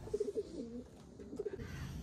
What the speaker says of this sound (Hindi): तो सारा कबूतर अभी रेडी है छोड़ने के लिए।